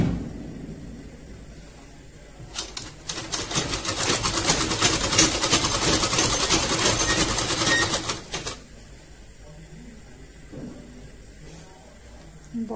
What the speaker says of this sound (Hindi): यहाँ से भी मैं सिलाई लगा ले रही हूँ।